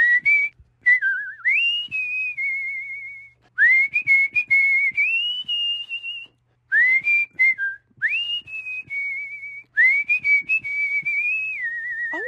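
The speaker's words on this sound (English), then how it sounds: "that's real whistling." A man whistles a melody in a clear, pure tone, phrase after phrase with short pauses between, close and alone without talking.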